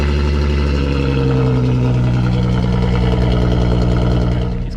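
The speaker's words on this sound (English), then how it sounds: "Main man here is going to give us a cold start." A Volkswagen Golf R32 with a straight-piped exhaust idles loudly after a cold start, a steady, deep, uneven rumble with a faint knock, dropping slightly at the end.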